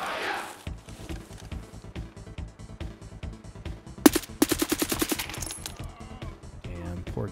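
Burst of gunfire in Escape from Tarkov as a player is shot in the back: a rapid string of loud, sharp cracks in the middle, set against a steady rhythmic thumping throughout.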